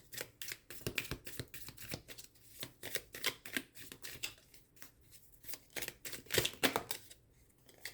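Tarot cards are shuffled close by in a quick run of crisp riffling flicks and slaps, fairly soft, going on for several seconds in uneven bursts with no talk.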